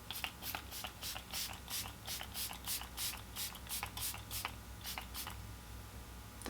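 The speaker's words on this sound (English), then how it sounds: "I'm gonna spray my face." Rapid series of short spritzing bursts from a face mist spray bottle, about a dozen quick pumps in an irregular rhythm, faint against a low background hum.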